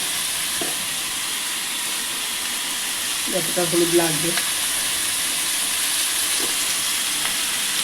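Yogurt, rice and turmeric frying in a pan give a steady, close sizzling hiss throughout, with a brief stretch of speech over it near the middle.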